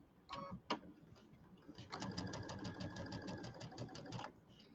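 A sewing machine stitches quilt pieces for a Kimberbell table topper, running in a steady fast rattling burst for about two seconds after a few short clicks, close and clear with no talking.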